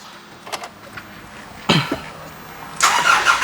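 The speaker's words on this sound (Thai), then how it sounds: "เดี๋ยวเราฟังเสียงเครื่องกันนะครับผม" A Nissan Navara NP300 pickup's 2.5-liter turbo diesel engine cranks and catches with a rough burst, after a few faint clicks and knocks, then roars into a loud idle.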